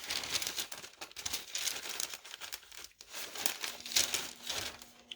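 Parchment paper crinkles and rustles close up as ribbon is laid across it, in irregular bursts of crackling that rise and fall with no voices.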